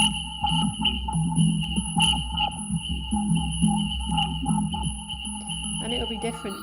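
An EQ's frequency, steered by a MiMU glove, sweeps across a busy, sonar-like electronic texture of pinging tones and clicks. Moderately loud and continuous throughout, with no clear speech.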